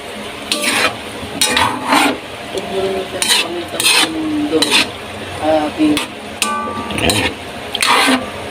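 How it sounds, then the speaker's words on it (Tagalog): A spatula repeatedly scrapes and clanks through chicken liver and gizzard sautéing in a pan for adobo, rhythmic stirring strokes over a low sizzle, close and fairly loud. "medyo haluin po natin itong ginigisa po"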